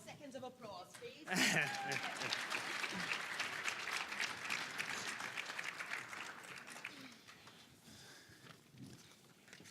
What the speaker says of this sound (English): More seconds of applause, please.